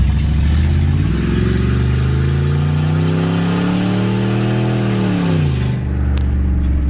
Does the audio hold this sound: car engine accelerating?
yes